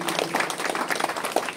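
Audience applause at a felicitation ceremony, a dense, steady wash of many hands clapping that stays loud and even throughout the short stretch.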